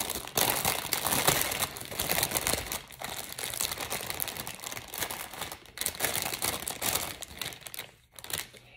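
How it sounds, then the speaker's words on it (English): Plastic packaging from an embroidery floss haul crinkles and rustles nearly nonstop at close range, loud and busy with brief pauses. "So sorry for the crinkling."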